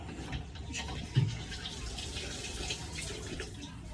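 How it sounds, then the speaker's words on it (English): Water running steadily from a bathroom tap at the end of a bathroom cleaning, a continuous broadband hiss with a brief louder splash partway through. "Now I'm gonna turn that water off"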